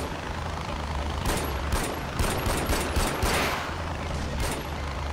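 A rapid string of gunshots in Far Cry 4 rattles over a steady engine roar from a gyrocopter, with several closely spaced shots in the middle of the stretch.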